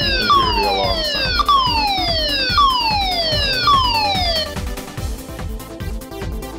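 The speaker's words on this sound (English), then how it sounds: "you can hear the alarm sound." Personal alarm siren triggered from the smart button of an Astro Slide T2 smartphone, repeated falling electronic wails that sweep downward over a busy pulsing backdrop, loud and close, fading out after about four and a half seconds.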